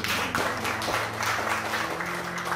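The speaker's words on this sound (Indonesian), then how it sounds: "Ya kita beri tepuk tangan buat Pak." An audience at an interdenominational church gathering applauds, a continuous busy spatter of clapping at moderate level with faint voices and a held tone underneath.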